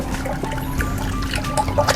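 Dishwashing liquid mixture poured into water, a steady close trickle and gurgle of liquid running continuously with small splashes, against a low background hum.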